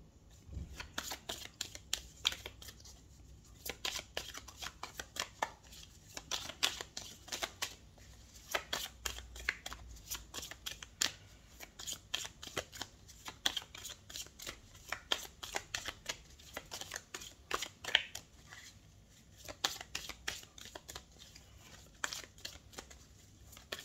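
Tarot cards shuffled by hand in a quiet room, a long run of soft riffling flutters and crisp snaps repeating in uneven bursts, close and fairly faint with no talking.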